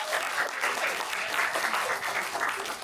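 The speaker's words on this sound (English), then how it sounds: "Can you give me a round of applause?" Steady, full applause from a seated audience at an indoor executive centre gathering, evenly dense and fairly close, with no voices standing out above it.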